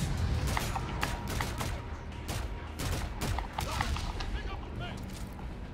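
Call of Duty gunfire crackles in rapid, irregular bursts of shots with booming impacts underneath, a dense battle din that runs through the whole stretch at moderate level.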